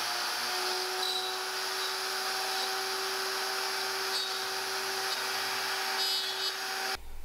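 A router cuts a slot into a wooden wine box, a steady high-pitched whine with a constant tone running close and loud for about seven seconds before it cuts off abruptly at the end.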